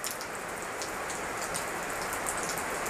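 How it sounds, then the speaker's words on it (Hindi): Steady morning rain falls on surfaces outdoors, a dense, even patter of drops that holds at a constant level throughout, with no voices. "आज हमारे यहाँ देखिए सुबह सुबह बारिश हो रहा है।"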